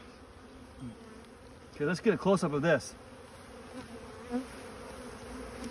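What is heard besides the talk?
wild-caught honey bees buzzing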